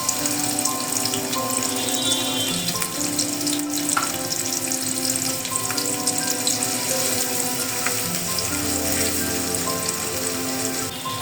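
Onions sizzle in about a cup of hot oil for prawn polao, a steady, dense crackle of frying that runs unbroken and fairly loud throughout, with no talking.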